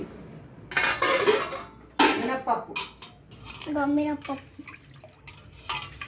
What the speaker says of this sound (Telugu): ఇక 6 times కడుక్కోవాలి ఇడ్లీ రవ్వ.